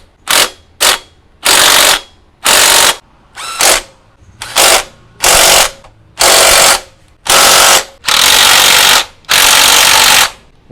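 A power tool drives a screw on a Kawasaki RR motorcycle in loud, repeated ratcheting bursts, about a dozen short buzzing pulses separated by brief pauses, growing longer toward the end.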